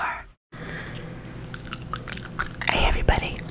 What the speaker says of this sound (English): I thought I would chew some gum and talk about Halloween